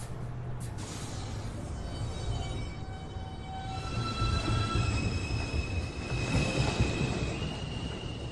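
A NYC subway 2 train moves through the elevated 215th Street station with a steady rumbling roar, high wheel squeals and sustained metallic tones that rise and fall, loud and close throughout.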